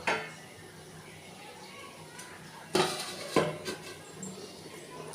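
A metal lid set onto a pot of simmering chicken curry, with a couple of sharp clanks and rattles midway over low kitchen background noise.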